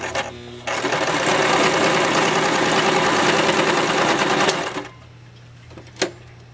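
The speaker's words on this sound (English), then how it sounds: "we're going to sew until we're about 1 inch away from where we started" A sewing machine stitching fabric for a pocket rice hot bag, a loud steady mechanical whir running for about four seconds before stopping, followed by a faint click.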